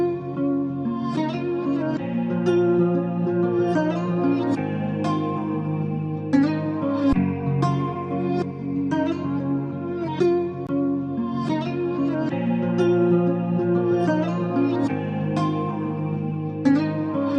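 Layered Afrobeats guitar loops play back together in FL Studio, a bright plucked melodic pattern cycling steadily over a low bass pulse, full and continuous with no voices.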